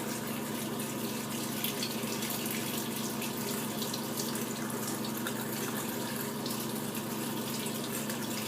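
Tap water runs steadily into a sink while a makeup brush is rinsed under it, making a constant, close splashing hiss with no pauses or voices.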